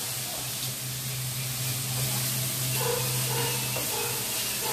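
Onions and green chillies sizzling in hot oil in a pan while cooking cauliflower 65 curry, a steady even hiss with a low hum beneath and faint clinks near the end.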